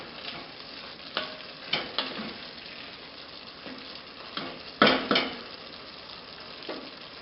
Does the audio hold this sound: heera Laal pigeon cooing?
no